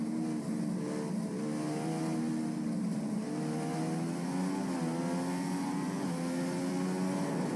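Formula One car from the F1 2015 racing game entering the pits, its engine a steady mid-pitched whine with small rises and falls, holding at a constant moderate level throughout with no talk.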